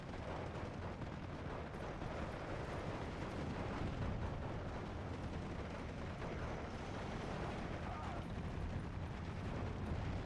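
Dense 3-inch mortar fire in a Steel Division 2 WWII battle, heard as a continuous rumbling wall of distant blasts and battle noise with no clear gaps, steady and muffled throughout.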